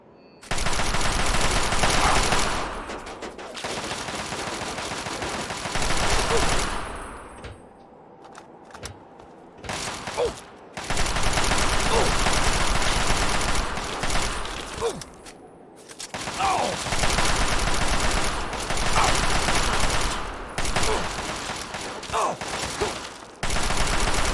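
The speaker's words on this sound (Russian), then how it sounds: "Кстати, у меня же есть китайский автомат." Chinese assault rifle fire in the game Fallout 3, loud sustained automatic bursts separated by short pauses and quieter stretches, with sporadic single shots between the bursts.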